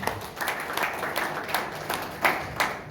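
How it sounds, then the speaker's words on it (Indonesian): A church congregation at Sunday worship breaks into sustained applause, a dense patter of clapping with a few louder bursts, fairly distant and without speech. "Tepuk tangan panjang."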